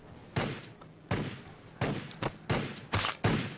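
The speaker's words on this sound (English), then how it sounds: "These guys should open fire when they come over the hill." Gunfire volleys in Warhammer 40,000: Battlesector, six sharp, close shots or short bursts landing at irregular intervals, each with a brief decaying tail.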